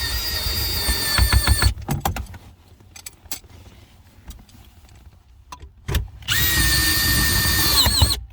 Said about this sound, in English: Drills a little fast.